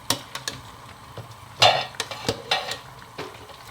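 A spoon scrapes and knocks around a pot of efo elegusi, a Nigerian spinach soup with meat, in a quick series of sharp clinks and taps at close range with no talking.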